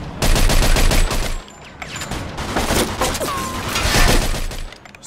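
Gunfire in the Mafia 2 video game, dense bursts of rapid automatic shots with cracking impacts and some glassy shattering, loud and continuous over five seconds.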